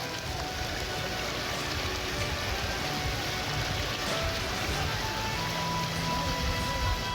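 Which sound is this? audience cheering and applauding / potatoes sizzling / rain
rain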